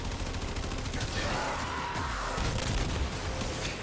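Rapid, continuous AX-52 rifle fire in the video game Warframe, with dense bursts of shots layered over a busy, loud in-game soundscape.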